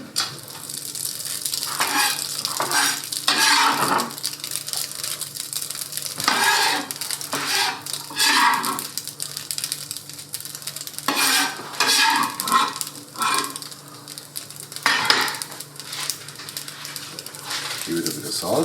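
Walnuts toasting in a dry pan without oil, stirred with repeated scraping and rattling over a low sizzle, with intermittent bursts of stirring throughout.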